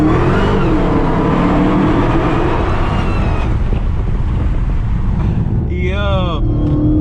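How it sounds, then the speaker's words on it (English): An 800hp Dodge Hellcat floored from drive with its tires spinning: a loud continuous engine and exhaust roar heard from inside the car, with heavy wind buffeting and a brief squealing tone near the end. "I'm gonna try and make you guys hear some of the exhaust"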